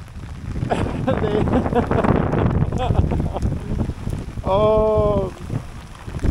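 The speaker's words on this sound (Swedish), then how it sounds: "Nu kommer ett ösregn här." A heavy downpour with gusting wind lashes a beach in Jutland, Denmark, as a dense, steady roar of rain and wind noise buffeting the microphone, while people talk over it.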